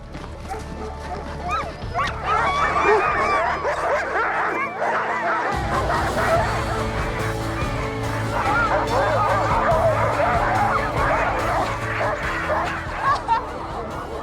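Excited sled dogs at the start of a Fjällräven Polar race day, a chorus of frantic barking, yipping and whining from many dogs close by, continuous and loud, with a person talking briefly among them.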